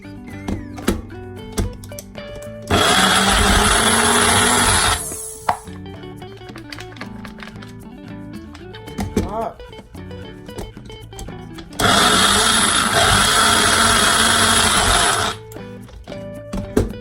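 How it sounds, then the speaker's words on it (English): A small kitchen blender whirs through avocados in two loud, steady bursts of a few seconds each, separated by quieter clinks and handling sounds. "I'm going to try blending these 2"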